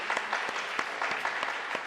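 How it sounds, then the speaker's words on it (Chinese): Church congregation clapping together to welcome a first-time visitor at a Sunday worship service, a steady, fairly even applause of many hands filling the whole stretch at moderate distance, with no voices standing out. "咱拍手来、拍鼓来欢迎伊"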